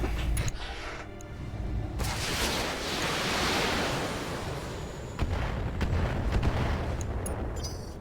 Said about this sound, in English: Might as well get some of those missiles out.